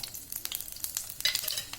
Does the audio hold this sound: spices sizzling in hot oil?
yes